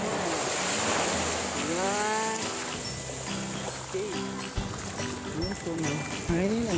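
Sea waves wash in a steady, broadband rush with wind at the shore, continuous throughout, while people talk over the surf.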